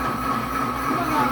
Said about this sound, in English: blend on speed 3 of the custom blend for 1 minute